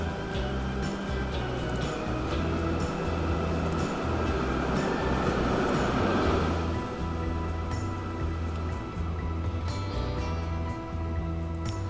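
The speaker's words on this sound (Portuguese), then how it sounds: "Vem o trem." A train rumbles past in the rail-building game Transport Fever 2, a steady loud rolling roar with rhythmic clacks of wheels over rail joints, heard alone without talk.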